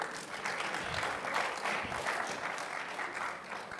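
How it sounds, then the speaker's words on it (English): Steady applause from a youth conference panel audience, a dense wash of clapping hands that holds evenly throughout without any voices over it. "A round of applause for Basiru."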